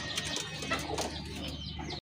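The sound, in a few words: red gorra pigeon cooing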